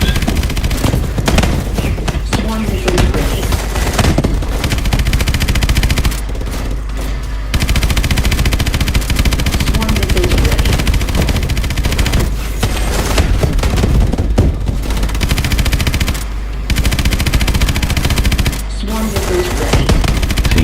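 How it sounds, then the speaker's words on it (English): Heavy automatic gunfire rattles nearly nonstop in a Call of Duty Advanced Warfare campaign battle, dense loud bursts with booms and brief lulls, no voices over it. "just keep shooting them in the head"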